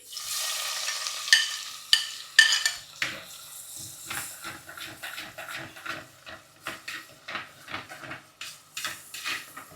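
Onions fry in a pan for a medicinal snake curry, stirred with a utensil that scrapes and clinks against the metal in irregular bursts over a steady soft sizzle, close and fairly loud.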